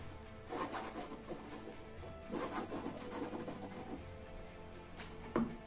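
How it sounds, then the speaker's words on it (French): The back of a knife drags through paint on a canvas in soft, scratchy strokes, like writing, faint and close, with a few short rubbing passes and no voices. "Je peux, avec l'arrière d'un couteau, venir, comme si j'écrivais,"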